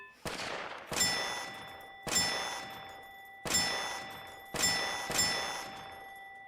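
A regular pistol in the Spectra demo fires six sharp shots at uneven intervals, each a bright metallic crack with a ringing, clanging tail, loud and close with no talk.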